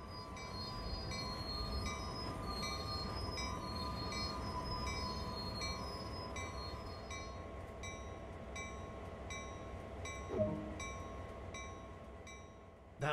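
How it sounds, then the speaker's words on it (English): A GP38-2 diesel locomotive in Train Sim World 2 slowing to a stop under its automatic brake, a continuous rumbling rail drone with a faint squeal from the wheels and a brief clunk near the end. "So let's bring it to a stop. Move the auto brake to initial reduction."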